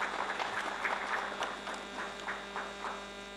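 Applause at a government press conference on the economic survey, a soft, steady patter of many hands clapping in a room with a faint electrical hum beneath.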